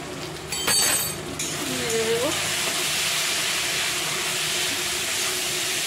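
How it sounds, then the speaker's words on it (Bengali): Spices fry in a pan with a steady, close sizzling hiss that carries on evenly after a brief clatter at the start, with no speech. "তো দেখো, মশলাটা যে ভাজা ভাজা হয়ে গেছে।"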